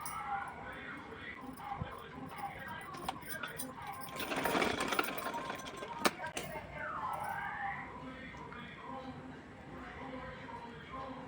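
A sewing machine runs in short bursts while stitching a small doll dress bodice for Radha's festival outfit, its motor whirring close and fairly quiet with pauses between runs.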